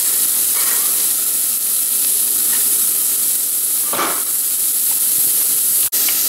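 Carrots sizzle in a pot of browning onions and garlic for beef barley vegetable soup, a steady loud hiss with a few stirring scrapes and a brief sharp knock near the end.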